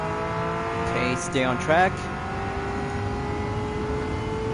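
Nismo 400R 1995 race car engine in Gran Turismo 7, a steady droning tone throughout, with a commentator talking over it briefly.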